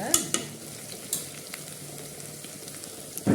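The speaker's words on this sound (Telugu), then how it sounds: "చిన్నులపాయలు వేసేస్తున్నా దీనిలో" Small onions drop into hot oil with tempering spices in a pan, giving a close, crackling sizzle with a few sharp clinks of a stirring utensil at the start and end.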